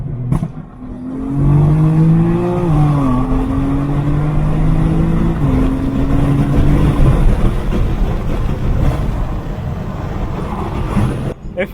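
Tuned BMW F80 M3 engine accelerating on the road, a loud, close exhaust note climbing in pitch through gears with brief dips at each shift, sustained for several seconds.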